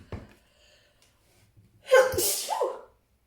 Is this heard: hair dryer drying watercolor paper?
no